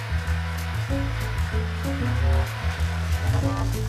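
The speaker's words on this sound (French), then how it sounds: "On peut utiliser le fouet électrique? Oui, 4 minutes à vitesse moyenne" Electric whisk at medium speed beating egg yolks with sugar, a continuous whirring motor hum with shifting pitch as the beaters move through the bowl.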